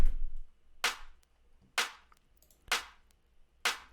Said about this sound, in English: This is the clap.